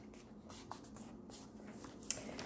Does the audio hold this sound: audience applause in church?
no